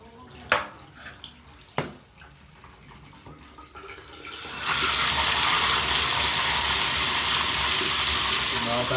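A Moen shower valve set to the cold side is switched on after a few sharp clicks of handling. Water then gushes in a loud, steady hiss that lasts to the end.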